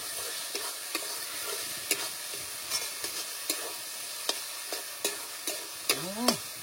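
Spice paste frying in oil in a village kitchen, a soft continuous sizzle broken by regular scraping stirs and utensil knocks, with a brief squeak near the end.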